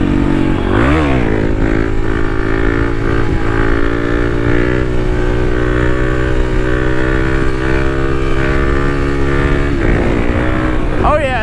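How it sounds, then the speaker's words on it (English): A Kawasaki KLX300 dual sport motorcycle ridden for wheelie practice in Mexico runs steadily and loudly close by, its engine droning with rising throttle blips near the start and end. "We're just gonna be ripping around. We just made it in here to Mexico, so we're just gonna be getting a little wheelie practice today."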